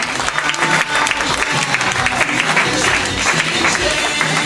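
A theatre audience applauds the crew after a performance, a dense, continuous wash of clapping, loud and close, with no voices standing out.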